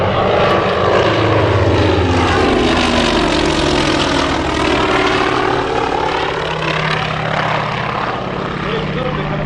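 Propeller airplane flying past at the EAA AirVenture Oshkosh air show, a loud droning engine and prop buzz that swells and shifts in pitch as it sweeps by, heard continuously and close.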